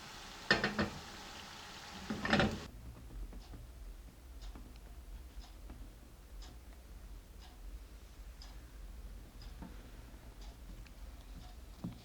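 Mandazi half cakes frying in hot oil give a faint, steady sizzle dotted with small ticking crackles, after a couple of louder clattering knocks at the start.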